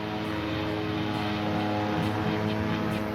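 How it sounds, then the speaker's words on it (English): A 6-foot diameter fan blade driven by a 350 horsepower big block engine roars loudly and continuously, a close, steady propeller-like drone with a deep engine rumble under a constant rushing wash of air. "This is a 6-foot diameter fan blade connected to a 350 horsepower big block engine."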